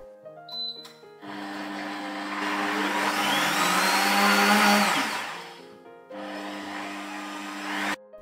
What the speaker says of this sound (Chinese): 选择果汁模式，搅打成细腻的绿豆泥